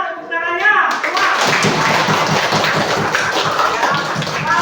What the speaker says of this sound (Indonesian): Coba tepuk tangannya, semua.